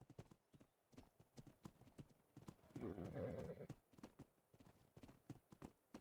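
Horse hooves clip-clop steadily in Ark: Survival Evolved, a slow-moving horse with a brief whinny, the regular footfalls running under a louder burst of game noise midway.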